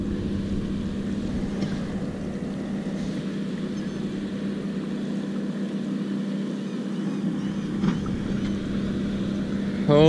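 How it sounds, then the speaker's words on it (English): Low, steady engine rumble of many boats droning across the water at a distance in thick fog, a constant hum with no distinct passes. "God, I just hear so many boats."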